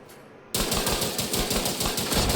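Gunfire from a rifle in The Division 2 cuts in after a short quiet moment, then keeps going as a loud, rapid, evenly spaced burst of close shots until the clip ends.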